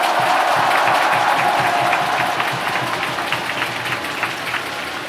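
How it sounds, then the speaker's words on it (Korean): A large crowd applauds steadily at a Korean Series baseball championship award ceremony, a dense wash of clapping with some cheering that holds throughout and fades slightly toward the end. "다시 한번 뜨거운 박수를 부탁드리겠습니다."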